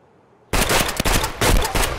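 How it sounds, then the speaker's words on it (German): After half a second of near silence, a loud, sustained burst of rapid gunfire from Escape From Tarkov on the Woods map erupts up close, with sharp individual cracks running to the end. "Ich schieß mal."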